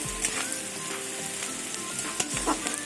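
Figs frying in oil in a covered pan, a steady close sizzle with a few faint clinks and stirring touches throughout, no talking.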